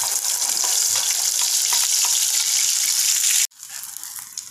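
A Khandesh-style masala with cumin and a pinch of mustard seeds fries in a pan with a bright, steady hiss that cuts off abruptly partway through, leaving a quieter sizzle. No voices.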